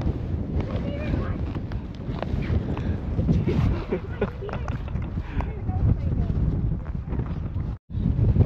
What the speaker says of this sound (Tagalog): Lakas ng hangin mga ka-Jedi